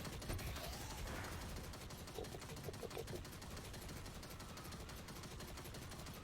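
Automated turrets fire rapid bursts during a Destiny fight in the Bay of Drowned Wishes lost sector, a faint, dense crackle of gunfire running steadily throughout.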